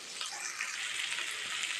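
Onions sauté in a pan for paneer butter masala, a soft, steady sizzle and hiss, quiet and close, with no voices over it.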